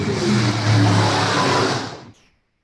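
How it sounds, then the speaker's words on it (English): A loud motorcycle roars past a workshop, its engine noise loud and steady before quickly fading away to near silence. "That was a loud motorcycle."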